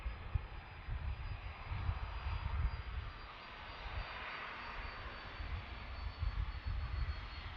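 A UPS heavy cargo jet at Boeing Field gives off a continuous low engine roar, distant and fairly faint, with a broad rumbling hiss that holds steady throughout.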